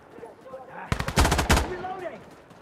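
Rapid burst of shotgun blasts from the video game Insurgency Sandstorm, several sharp close reports clustered in about half a second, with voices talking around them.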